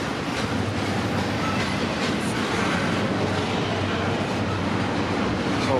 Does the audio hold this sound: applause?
no